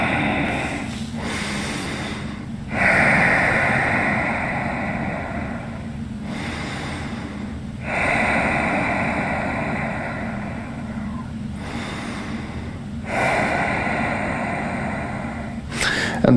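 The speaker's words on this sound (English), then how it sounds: "Take a couple of deep breaths here." Slow, deep breathing held in a yoga pose, long airy inhales and exhales in a steady cycle of about four breaths, close to the microphone, with no talking.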